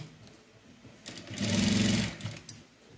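A sewing machine stitches a seam on a blouse, a steady close whirring run of about a second rising from quieter handling sounds and ending with a small clack.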